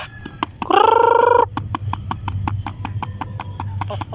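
Heritage chickens clucking nearby: one loud, drawn-out squawk followed by a rapid series of short, rhythmic clucks, with faint voices in the background.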